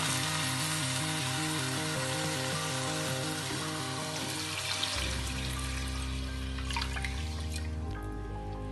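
Water splashes and trickles into a pot of rice fried in ghee with onions, mixing with a soft sizzle as the pour continues, backed by light music.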